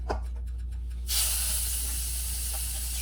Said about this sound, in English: drop in our oxtails and our rib backs. And we want to get a hard sear on these.